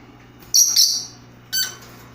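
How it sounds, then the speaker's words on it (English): A pair of lovebirds gives sharp, high chirps, a quick double call followed by a single one a second later, close and clear over a low steady hum. "A pair of lovebirds."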